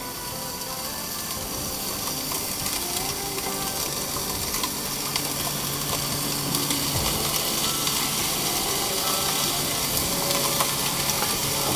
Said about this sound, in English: It's already sizzling, you can hear it.